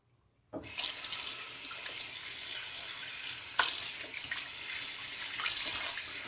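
Steady running water from a tap rinses a shaving soap puck over a sink, a continuous close hiss and splash with a brief louder burst partway through.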